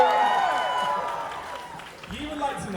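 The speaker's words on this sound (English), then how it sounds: "Round of applause for Yi, everybody." An audience claps and cheers at a Fall Out Boy fan Q&A in the Pryzm club in Kingston, a dense wash of clapping that thins out gradually while voices carry over it.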